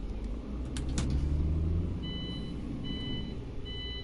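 A truck's reversing alarm in a PS4 trucking game sends out evenly spaced high beeps over a low engine rumble, after a few brief knocks.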